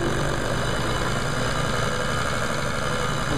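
The engine of a 1950s Mercedes-Benz 220 runs steadily during a distributor test, a loud, continuous idling drone with even mechanical vibration and no speech.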